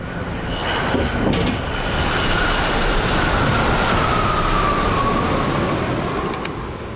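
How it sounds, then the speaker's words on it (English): A train runs along a test range, a loud steady roar of wheels on rail lasting throughout with a thin high squeal riding on top. "It's hard to stop a train."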